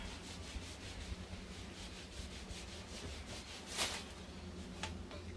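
A spare piece of foam rubs steadily back and forth over a material collar to work out a dark patch, a soft rhythmic scuffing close up, quiet and continuous, with no voices.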